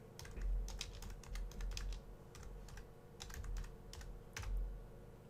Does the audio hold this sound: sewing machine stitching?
no